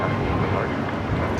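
A United Airlines Boeing 737 MAX 9 takes off with a broad, steady jet roar from some distance at a busy airport, and a voice talks over it.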